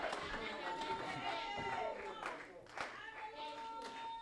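A church congregation acclaims at a New Year crossing-night service, with scattered clapping, cheers and excited voices that rise and fall around a speaker.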